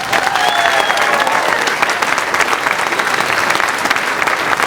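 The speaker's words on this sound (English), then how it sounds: "So I think we should all just give a big round of applause to Patricia." An audience at a variety show claps steadily in dense, even applause that holds at a consistent level throughout, with no voices standing out.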